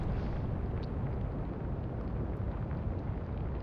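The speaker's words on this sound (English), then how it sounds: "Big explosion amidships." A large ship explodes amidships in a naval warfare game, a dense, sustained rumbling roar with a broad windy hiss that holds steady throughout, loud and with no talk over it.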